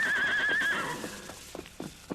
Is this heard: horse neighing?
yes